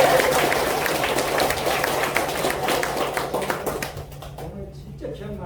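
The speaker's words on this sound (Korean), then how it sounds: "박수 한번 보내주십시오." Audience at a Nara-area meeting with a lawmaker applauds in a dense, steady burst of clapping that fades out toward the end, with speech mixed in underneath.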